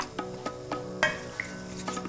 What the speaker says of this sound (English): You can see the cinnamon stick starts to sizzle around the edges